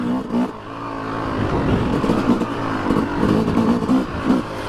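Yamaha YZ250 dirt bike engine running steadily on a trail, a continuous rough two-stroke drone with small surges in throttle, close and fairly loud throughout with no talking.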